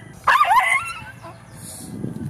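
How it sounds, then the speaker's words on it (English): A dog gives a sharp bark and a short yip, followed by quieter whimpering and background noise, heard close and without talk. "Crazy dogs."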